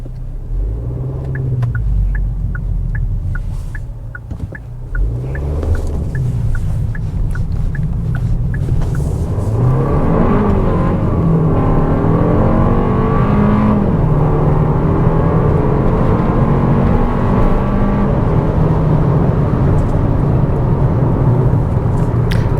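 A Kia K4 hatchback with a 1.6 turbo engine pulls away with a loud, steady, close engine drone and rising tone under heavy road rumble, with no talking.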